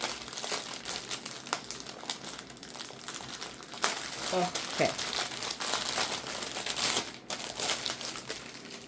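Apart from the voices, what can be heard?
packaging crinkling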